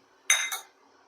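A lid goes onto a pot of raw tamarind rasam in a single bright metallic clink with a short second rattle, close and clear, then quiet.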